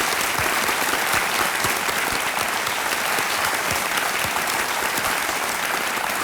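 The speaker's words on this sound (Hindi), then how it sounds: "तालियां बजती रहें प्रदीप के लिए।" A studio audience on Kaun Banega Crorepati keeps up loud, dense, continuous applause throughout, a steady wash of many hands clapping close by.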